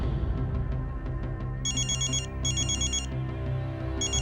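A mobile phone rings with an incoming call, a repeating electronic ringtone in bursts over a low musical drone, with no one speaking.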